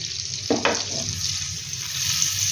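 Kebabs fry in butter and oil in a hot frying pan, a steady close sizzle broken by a couple of brief clinks near the start.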